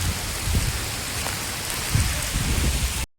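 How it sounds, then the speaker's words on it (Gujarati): Heavy monsoon rain pours steadily in Rajavadar village near Mahuva, a dense close hiss of drops hitting surfaces with low rumbling thumps underneath, then cutting off abruptly. "સરસ મજાનો વરસાદ આવે છે."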